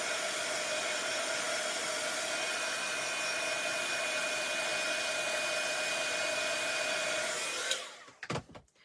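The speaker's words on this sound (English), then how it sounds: "let me just give this a quick whiz with the heat gun" A heat gun blows a steady, loud broadband hiss with a faint whine while drying interference ink on a swatch, running continuously for several seconds before cutting off abruptly near the end, followed by a few handling clatters.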